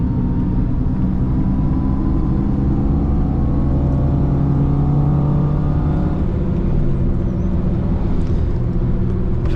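A car with a Honda K-Series engine running an aftermarket tune revs steadily for about ten seconds. The engine drone is loud and close and rises and falls in pitch without a break.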